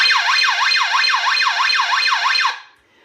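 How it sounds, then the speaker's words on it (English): A Scantronic 9200 alarm panel's external siren sounds a loud, close, rising-and-falling electronic wail during a bell test, cycling rapidly for a couple of seconds before cutting off into silence. "this will now start the alarm."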